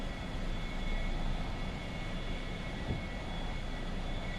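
A steady airplane engine drone and rushing wind hold at an even level while the flaps are lowered during descent in a flight simulator, with no other sounds breaking through.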